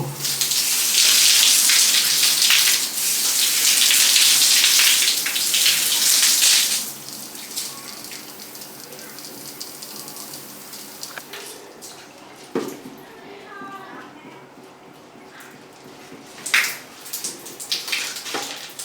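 A Korean shower head sprays a strong, soft, fine stream that hisses loudly for about seven seconds, then cuts off, leaving faint drips, splashes and handling clicks.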